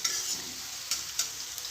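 Chopped onions frying in a pan for Odia-style dahi chicken, a soft steady sizzle with a few brief scraping stirs of a spoon, close and fairly quiet with no talking.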